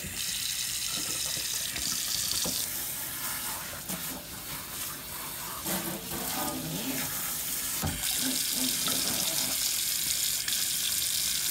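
Running water from a tap rinsing a girl's hair, a continuous close splashing flow that briefly shifts and breaks as the hair moves under the stream, with no voices.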